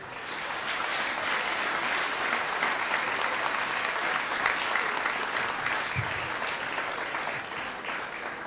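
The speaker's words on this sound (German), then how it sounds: "Einen großen Applaus" Sustained audience applause at a parish ball, a Pfarrball in Pischelsdorf with dirndls and a polonaise, filling the room evenly for several seconds at steady loudness with dense overlapping claps.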